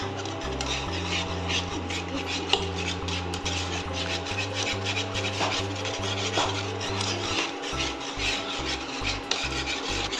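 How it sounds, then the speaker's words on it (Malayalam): Thick coconut flower payasam made with rice flour is stirred fast in a pan, giving a continuous close rasping scrape with a rhythmic pulse, under a steady low droning hum. "അപ്പോൾ നമ്മൾ സ്പീഡിൽ ഇങ്ങനെ ഇളക്കി കൊടുത്തുകൊണ്ടിരിക്കണം"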